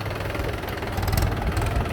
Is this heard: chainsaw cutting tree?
no